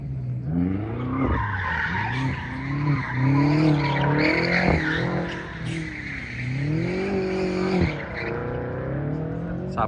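BMW M550, M4 and M6 cars drift at a car meet, their tires squealing loudly in long wavering screeches that rise and fall over revving engines and continue almost without a break.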